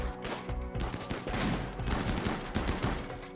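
Shotguns fire in a RimWorld video game battle, with dense, rapid overlapping bursts of gunfire that run continuously over a low drone.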